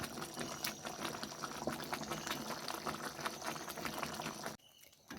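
Ginger-tamarind inji puli with salt added, simmering covered in a pot: a steady, dense bubbling and sizzling texture close by, ending abruptly in a brief quieter moment.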